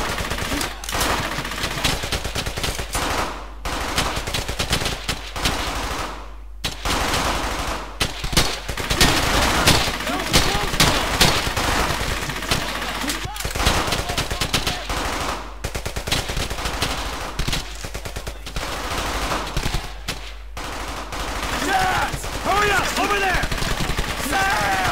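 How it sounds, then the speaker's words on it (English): Sustained machine gun suppressing fire in the Brothers in Arms: Hell's Highway video game, loud dense rattling bursts broken by brief pauses, with scattered gunshots and shouted voices mixed in throughout. "suppressing fire! On that MG!"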